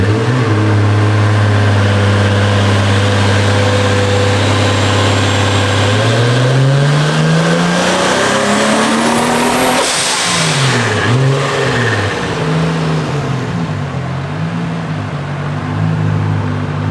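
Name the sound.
Toyota Supra engine revving on dyno run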